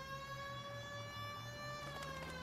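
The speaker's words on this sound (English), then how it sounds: "This siren is so annoying." A police car siren from the video game L.A. Noire drones as a steady, harmonically rich electronic tone, faint and sustained, heard on its own without talk.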